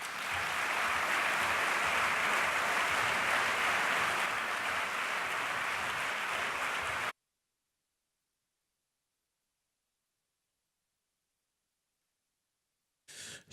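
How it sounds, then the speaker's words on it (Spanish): Applause from an audience at an 80th anniversary commemoration of the Ezkaba prison escape, greeting performers as they go on stage; steady, dense clapping fills about seven seconds, then silence, with a brief burst at the very end. "Un fuerte aplauso."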